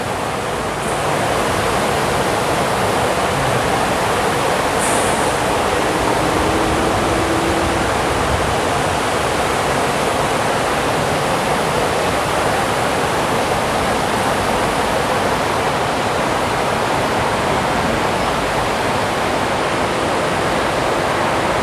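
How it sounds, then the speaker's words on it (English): Fountain water pours and splashes continuously at the Fort Worth Water Gardens, a loud, steady broadband rush like a waterfall that persists without break throughout. "I'm just splashing right now"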